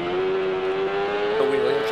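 A Kawasaki ZX-10R motorcycle, fully built, runs at speed on a track, its engine holding a loud, steady high-pitched whine that rises slightly over two seconds.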